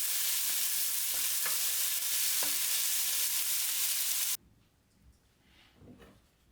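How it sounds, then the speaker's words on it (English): Steady, loud sizzling of onions frying in a pan, with a few light stirring clinks, cutting off abruptly to near silence with faint rustling. "While the onions are frying"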